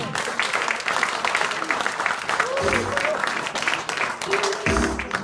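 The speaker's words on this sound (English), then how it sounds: "Please welcome to the stage Scott Stunts, Australia's comedy magician." Audience applause welcomes a comedy magician onto a stage: steady, dense clapping throughout, with voices and cheers audible over it and a couple of brief louder swells.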